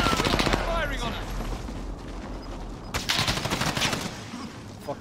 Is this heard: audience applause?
no